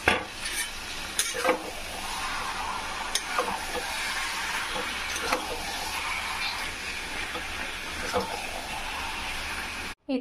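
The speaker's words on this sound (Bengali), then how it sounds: "এখন ইলিশ মাছটি ভাজা বসিয়ে দিয়েছি" Hilsa fish frying in a pan sizzles in a steady, dense hiss that runs unbroken for about ten seconds, close up, with a few faint clatters, before a brief cut near the end.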